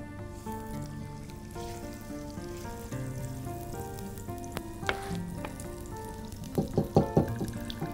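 Butter and olive oil sizzling in a pan before steak goes in, a quiet, steady frying hiss with soft crackles that pick up toward the end, while a faint tonal hum runs underneath.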